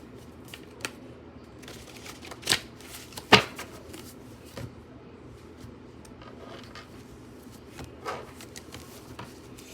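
Tarot cards being shuffled by hand at close range: quiet papery riffling and soft flicks, with a few sharper slaps of cards standing out against a faint background.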